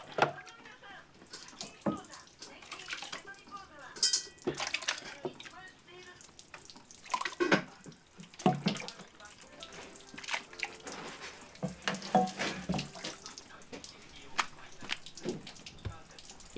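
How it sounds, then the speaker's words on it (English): Water drips and trickles as it strains from fresh tofu through the holes of a handmade wooden press lined with cheesecloth, in soft irregular splashes at close range. "It takes time to naturally let the water strain through the holes."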